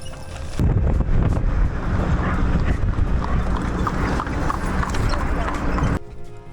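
Horse hooves clop along steadily under heavy wind buffeting the microphone, the rhythm of the trotting carrying through the noise.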